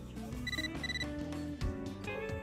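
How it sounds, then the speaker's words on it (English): A mail notification ringtone chimes from a phone in Catherine Full Body, a short series of bright, bell-like melodic tones in quick succession, fairly quiet and clear with nothing talking over it. "You got a mail."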